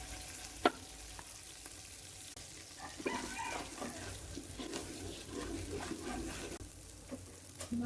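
Oil with bay leaves, cardamom and cinnamon sizzles quietly in a pot for mutton biryani, a soft steady crackle with occasional louder spits and stirring clatter, fairly faint and without talk.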